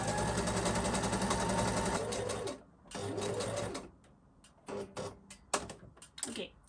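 A sewing machine stitches elastic onto lace panties, running in two steady whirring bursts close by, then stopping for scattered clicks, taps and fabric handling.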